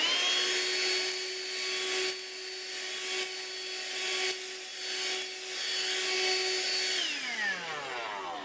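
Dirt Devil AccuCharge cordless hand vacuum running steadily on carpet with a high motor whine, the pitch dropping as it winds down near the end.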